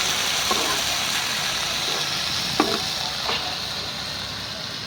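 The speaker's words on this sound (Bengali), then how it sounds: "এই হলো পাট শাক ভাজা।" Jute leaves being stir-fried in a pan, a loud continuous sizzle up close with scraping stirs and a few brief clinks of the utensil against the pan.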